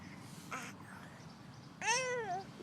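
A voice imitates a cat, giving two meow-like calls: a short one, then a longer, drawn-out meow with rising and falling pitch.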